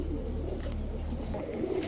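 Green-neck Hungarian flair Budapest pigeons coo in a low, throaty murmur, close and continuous over a brief stretch with no talk.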